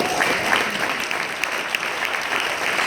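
Listeners at a leadership retreat closing speech clap in a steady, moderately loud wash of applause, with a few crisper claps standing out against the even rustle.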